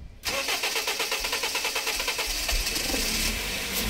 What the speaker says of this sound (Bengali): আমরা গাড়িটা স্টার্ট করব।